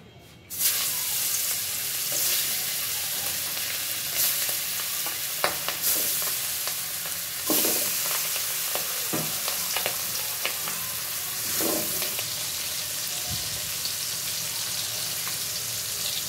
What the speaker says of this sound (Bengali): বন্ধুরা ইলিশ মাছ বেশি ভাজবো না, একটু ভেজে নিব